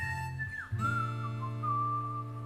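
Someone whistles a short tune alone, with clear sustained notes broken by a brief dip partway through, fairly soft and close.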